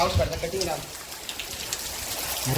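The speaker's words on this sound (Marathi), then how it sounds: "काय पाऊस पडतो" Heavy rain pours down in a steady, dense hiss with scattered drops spattering nearby. A person's voice is heard briefly at the start.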